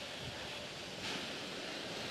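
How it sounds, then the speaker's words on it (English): Steady broadband roar of a space shuttle launch pad's sound suppression water system spraying, dense and continuous like heavy surf or a torrent, with a slight swell about halfway through. "Sound suppression water system has been activated."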